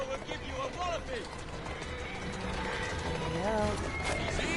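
Horse hooves clip-clop and a whinny rise from a video game, mixed with game sounds and running beneath ongoing talk and voices throughout.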